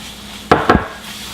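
A utensil scrapes twice through butter and flour in a warm skillet, two short close strokes against the pan, otherwise near silence.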